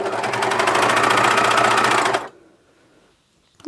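Juki MCS1500 coverstitch sewing machine running steadily at speed for about two seconds with a dense, rapid needle rhythm, then stopping abruptly into near silence.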